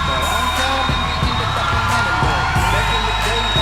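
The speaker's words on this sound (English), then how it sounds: "oh, listen to that, I can barely get a word in with the crowd going off" Loud crowd cheering and whooping at a Barebones MMA Championship fight in a gym, a steady dense roar of voices with rhythmic thumping beneath it throughout.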